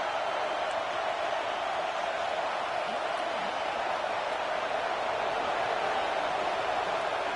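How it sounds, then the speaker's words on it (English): Stadium crowd at an Ohio State versus Clemson college football game, a loud, constant roaring wash of noise during a red zone defensive stand, unbroken and distant-sounding with no distinct voices. "here comes the noise. This crowd is trying to inspire this defense to make a big red zone stop"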